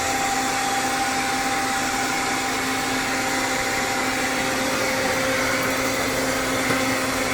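A Robit R7S robot vacuum cleans the floor, picking up hair and clumps along the edge, with a steady, close whirring motor hum and broadband suction noise running constantly throughout, with no talking.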